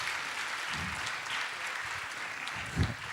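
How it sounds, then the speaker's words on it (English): A conference audience applauds the speakers with soft, steady clapping, fairly faint and distant, with a couple of low thumps. "an applause for our speakers."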